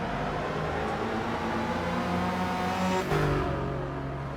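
A Chevrolet Corvette race car in a racing video game drones at Daytona with a steady, loud engine whine that shifts pitch as it accelerates, set against a continuous engine bed.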